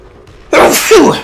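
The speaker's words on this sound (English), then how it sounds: "I'm going to sneeze" A man with a cold lets out a single sharp sneeze after a quiet moment, a sudden loud burst with a breathy tail close to the microphone.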